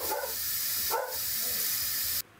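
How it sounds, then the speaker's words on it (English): An Instant Pot pressure cooker vents steam in a fast release, giving a steady, loud hiss that fills the whole clip before cutting off abruptly near the end. "Now our pressure cooker has sounded off. I'm gonna come up here and we're gonna do a fast release."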